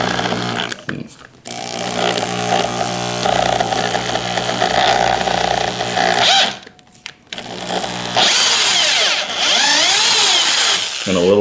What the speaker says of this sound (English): Drill into the metal bridge.